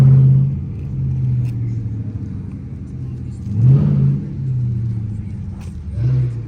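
Deep, steady rumble of a Dodge Charger Hellcat's 6.2-liter V8 idling nearby at a gas station, swelling in brief revs now and then.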